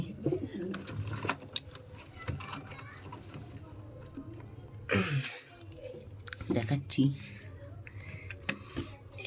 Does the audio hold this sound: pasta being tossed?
no